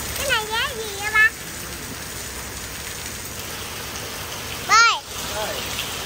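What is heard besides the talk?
rain falling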